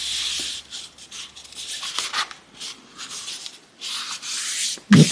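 Cardstock is folded and creased for a handmade Christmas craft card, giving soft papery rubbing and scraping strokes with short pauses. A sharper tap or crinkle comes at the very end, and no one speaks.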